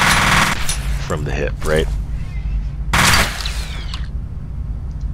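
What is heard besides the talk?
enemy shooting weapon from the hip, F.E.A.R. video game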